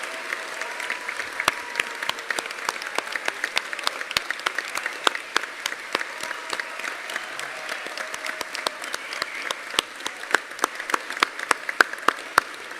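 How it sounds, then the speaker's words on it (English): Graduation ceremony audience for the BIMM Institute Brighton class of 2021 applauds at a distance in a hall, a soft, steady bed of clapping with sharp individual claps popping out close by throughout. "Give yourselves a massive round of applause."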